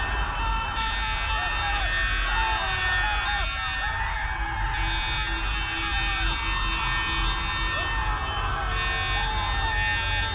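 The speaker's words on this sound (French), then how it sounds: "Une alarme." An alarm in the video game Poppy Playtime rings continuously and loudly as a steady buzzing, bell-like tone, with other game sounds and bursts of noise layered over it throughout.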